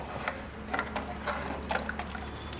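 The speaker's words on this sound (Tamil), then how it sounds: "உங்களுக்கு தேவையான அளவுக்கு தண்ணி ஊற்றிக்கோங்க." Water poured into a simmering gravy for chapathi and parotta, a soft, faint trickle with scattered light drips and splashes, heard close and alone.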